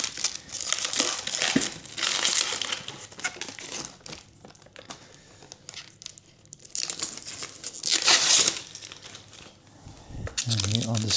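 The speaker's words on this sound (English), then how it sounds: "Cut off the plastic from the back plate here." Plastic wrap being cut and pulled off the back plate of a new Cosco folding multi hand truck cart, loud crinkling and tearing in bursts, with a person talking in between.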